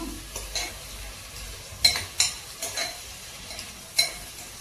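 Onions fry in a pan for mutton curry, giving a continuous close sizzle with several sharp stirring clinks and scrapes of a spoon against metal, and no one speaking.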